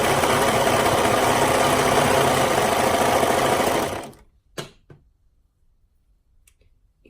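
Sewing machine stitching the short edge of fabric binding, a steady rapid mechanical whir for about four seconds that stops abruptly, followed by a few faint clicks and handling sounds.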